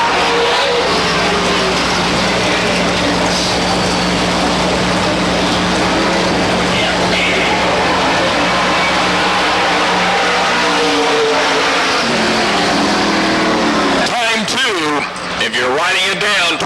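A race car engine drones steadily throughout the track noise during 1997 STARS Hillbilly 100 qualifying, with GRT race cars on track; an announcer talks over it the whole time.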